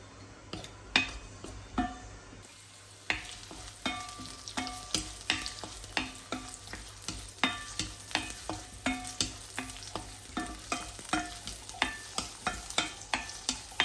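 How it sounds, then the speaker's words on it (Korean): Garlic, ginger and spices fry in oil in a pan, with steady close sizzling and repeated clicks and scrapes of a utensil stirring against the pan throughout. "이게 마늘, 생강, 뭐 여러 향신료가 있으면 넣고 일단은 기름에 볶아주도록 하겠습니다"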